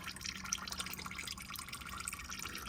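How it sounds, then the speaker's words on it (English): Used motor oil drips from the drain of a 2016 Lexus RX350 with a 2GR-FKS engine during an oil change, a soft stream of small, irregular drips, faint and with no voices. "that's out and still dripping as you can see"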